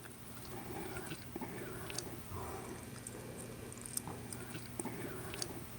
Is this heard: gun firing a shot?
no